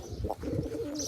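Domestic pigeons give a brief, soft throaty coo close by, a single short burst of low warbling lasting about a second.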